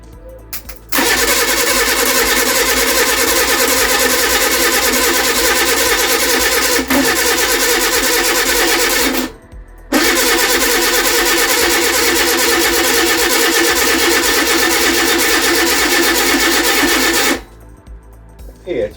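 Reliant Supervan engine cranking over and over without catching, a steady loud starter churn in two long bursts separated by a short pause, with no firing or revving.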